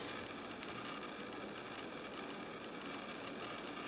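A sewing machine stitching the side seam of a folded fabric cuff for slipper boots, running as a steady, continuous mechanical hum with a fine rapid rhythm, close and moderately loud with no talking.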